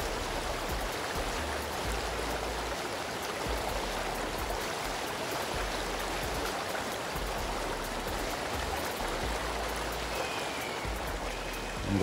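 Flash flood water rushes in a steady, dense roar, continuous and even throughout with no voices over it.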